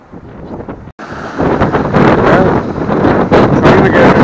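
Strong wind buffets the microphone at an old slipway by a headland on the water, a loud continuous roar after a brief gap near the start, with a faint voice at first.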